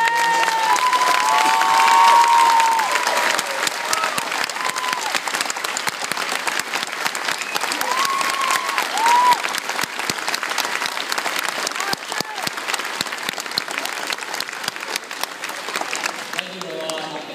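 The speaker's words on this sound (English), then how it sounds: "they deserve a round of applause" A crowd at a high school state championship celebration for the Loogootee Lions applauds two honored helpers, loud sustained clapping with scattered cheers and whistles running for over fifteen seconds, with some voices mixed in.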